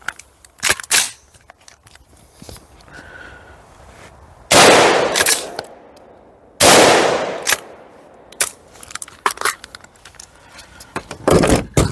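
Two loud, sharp shots from a Decade Core M4A5 straight-pull rifle chambered in .223 Remington, heard outdoors with handling clicks and rattles between them.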